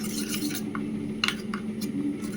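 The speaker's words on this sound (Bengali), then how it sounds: "এবার এই সর্ষে বাটাটার সাথে এই জিরে গুঁড়োটাকে খুব ভালোভাবে মিশিয়ে রেখে দেব" A spoon works cumin powder into mustard paste in a bowl, giving a few light clinks and scraping taps spaced irregularly over a quiet background.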